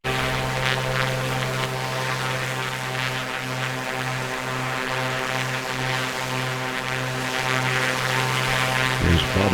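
Propeller airplane in steady flight, likely a floatplane near a seaplane base, with a constant droning engine hum and strong tonal buzz throughout, loud and close as heard from inside the cabin, without speech.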